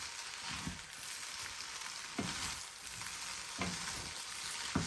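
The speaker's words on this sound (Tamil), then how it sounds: "சேர்த்துட்டு நல்லா மிக்ஸ் பண்ணுறேன்." Boiled noodles being tossed and mixed with vegetables in a hot pan, a continuous soft sizzle broken by several stirring scrapes at an even pace, close and moderately quiet with no voices.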